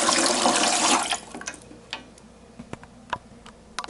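Water pouring into a canner pot for pickled beans, a loud broadband rush for the first second, then quieter trickling and scattered drips and clicks as the flow stops.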